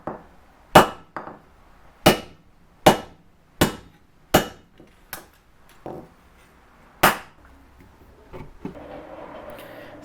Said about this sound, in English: heat it up and then take a wooden mallet and just